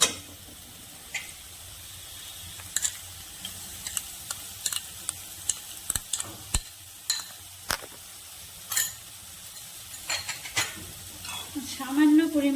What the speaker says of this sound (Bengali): এবার আমি পোস্ত বাটাটা দিয়ে দিই।